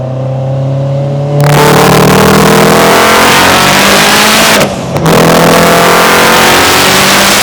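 An 812-horsepower Subaru STI accelerates hard in sport mode on a road test, a loud close engine roar climbing in pitch through the rev range, a brief dip at a gear shift, then pulling again.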